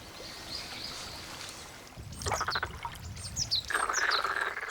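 Black-spotted pond frogs call in mating season by a pond, a faint chorus at first, then closer, louder bursts of rapid croaking trills alongside chirping birds in the background.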